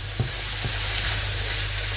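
Chorizo and onion sizzling steadily in a frying pan, close and constant, with a couple of soft stirring knocks near the start and no talk.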